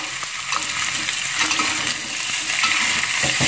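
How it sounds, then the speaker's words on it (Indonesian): Chicken frying on low heat in a pan, a dense steady sizzle with gentle scraping as it is slowly stirred, close and continuous. "kita aduk perlahan-lahan"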